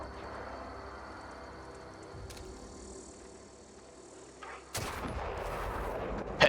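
A gunshot in The Outer Worlds video game lands as a headshot: a sudden loud burst of gunfire breaks in after a quiet stretch and continues as dense, noisy impact sound, with no talking.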